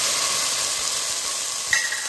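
Green chillies blister in hot oil in a pan, giving a steady sizzling hiss with one brief brighter crackle near the end; no one speaks.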